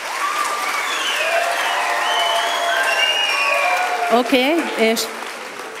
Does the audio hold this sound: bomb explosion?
no